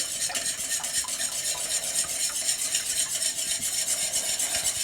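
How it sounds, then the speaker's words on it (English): A whisk working quickly through a sauce in a pan to keep it from clumping, a steady busy scraping with a faint sizzle underneath, close and continuous with no talking. "We're using a whisk because I don't want to have clumping."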